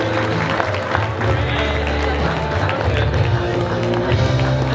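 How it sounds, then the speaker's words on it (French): Crowd applause and clapping at a French bouldering cup final carry on steadily under a loud announcer-style voice speaking over the noise. "Applaudissements pour Léo Avezou de Massy"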